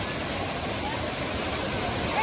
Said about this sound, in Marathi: लय भारी वाटतं, वरतून पाणी पडतं धबधब सॉलिड